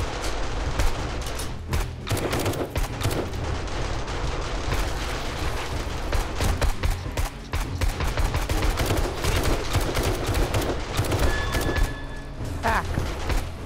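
Gunfire cracks in rapid, dense bursts, with booms, during a massive zombie horde night in the video game 7 Days to Die, loud and nearly continuous, with occasional talking underneath.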